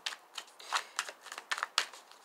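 Tarot cards are shuffled by hand in a quick, crisp series of riffling and flicking bursts, about a dozen short papery rustles in uneven rhythm, close and fairly quiet with no talking.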